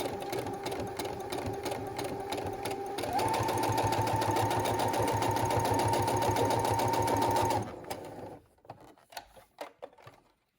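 A sewing machine stitches fabric back and forth along a straight seam of a face mask, a steady close mechanical whir that rises in pitch midway, then stops, leaving a few soft clicks.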